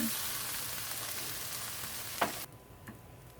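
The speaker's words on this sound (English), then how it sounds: "I'm gonna start stir frying the veggies" Loud, steady sizzling of vegetables stir-frying in a hot pan for shrimp lo mein, with a sharp clack of a utensil near the end before the sizzle drops away.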